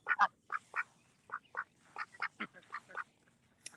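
A duck quacks repeatedly in a garden, about a dozen short, clear calls in an uneven rhythm, close by and fairly loud with no talking.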